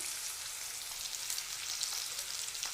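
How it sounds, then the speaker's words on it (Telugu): Onion pieces sprinkled with salt fry in a pan for a khadi dal masala curry, giving a dense, even sizzle close by with light crackles throughout and no talking. "ఉల్లిపాయ ముక్కలు త్వరగా మగ్గిపోవాలంటే కొంచెం ఉప్పు వేసుకుందాం."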